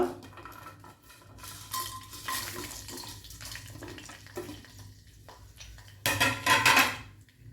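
Chillies and a piece of mace stirred and fried in mustard oil for a spinach-coriander chicken gravy, heard as steady clatter of a spoon against the pan with a low sizzle, growing louder near the end.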